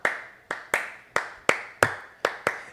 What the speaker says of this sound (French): quelqu'un fait l'applaudissement